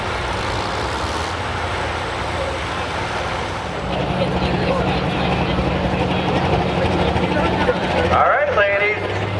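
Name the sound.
1960s tractor engine roaring during tractor pull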